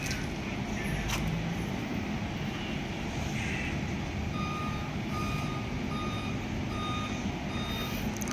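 A bus with air suspension backs up, its reversing alarm beeping in a steady repeating pattern over the continuous low rumble of the engine, moderately near and alone without talk.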